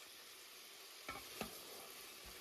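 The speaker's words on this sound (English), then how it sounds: "So you can hear it sizzling away really nicely." Food sizzles in a non-stick Ninja Foodi PossibleCooker Pro pan: a steady, faint frying hiss with two soft utensil knocks partway through.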